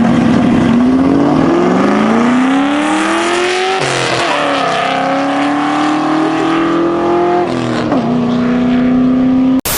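A 20-year-old Ford Mustang with a 4.6 liter V8 drives on the road, its engine droning close and loud, rising and falling through gear changes as it accelerates, no voices.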